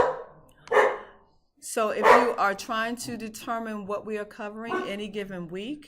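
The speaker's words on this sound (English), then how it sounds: "please excuse the barking of my dog" A pet dog barks in a home, a few loud yaps near the start before a person speaks steadily over the rest.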